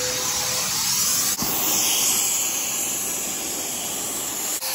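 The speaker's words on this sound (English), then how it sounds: "I'm gonna vacuum my car out" A vacuum cleaner runs continuously close by inside a car with a steady whooshing hiss, its pitch briefly shifting twice as the nozzle moves.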